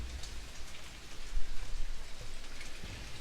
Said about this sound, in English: Seriously, it's coming down like crazy right now outside. I think I can even hear hail.